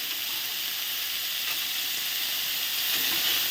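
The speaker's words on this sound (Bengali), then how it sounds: "একসাথে সব আমি ভেজে নিচ্ছি।" Garlic sizzles in hot oil alongside frying potatoes and eggplant, a steady close hiss and crackle running unbroken throughout with no voices.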